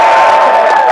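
A loud, dense crowd cheers and whoops at a StarCraft II launch event in Brisbane, a sustained roar filling the whole second with shrill voices on top.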